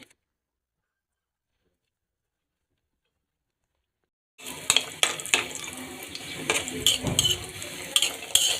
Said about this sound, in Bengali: দিয়ে দিলাম তেল এবার বড়িগুলো দিয়ে দিচ্ছি